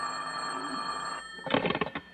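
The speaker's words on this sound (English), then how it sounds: "his phone rang" A telephone on a school principal's desk rings in a radio drama, a short electric bell burst after a steady tone, fairly close and alone.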